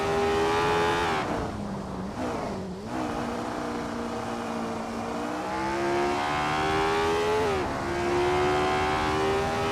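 Race cars in a racing video game run side by side with engines droning steadily at high revs. Pitch sweeps up and down as gears shift and the cars jostle, and the engine noise stays loud and close throughout.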